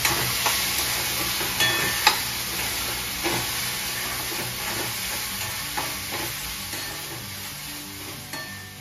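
Onion and tomato fry in a tempering and are stirred, a close, steady sizzle punctuated by irregular scraping and clinking strokes against the pan.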